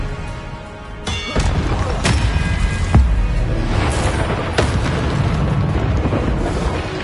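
Repeated Confringo blasting-spell explosions in Hogwarts Legacy, a series of booming thuds about every second over a dense rumbling battle bed, close and loud.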